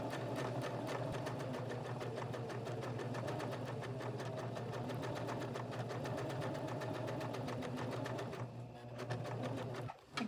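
A sewing machine stitches lace onto a US flag appliqué in a continuous, even mechanical whir with rapid needle ticks, running close and loud, then briefly slowing and stopping near the end.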